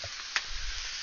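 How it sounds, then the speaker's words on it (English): Vegetables for a chicken stir fry sizzle in a hot pan, a steady broadband crackle with one brief louder pop near the start, close and continuous with no talking. "our vegetables are sizzling over there that you can hear"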